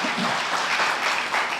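Applause from a church congregation at a Sunday worship service, steady dense clapping that fills the whole moment without a break, moderately loud and alone with no voices over it.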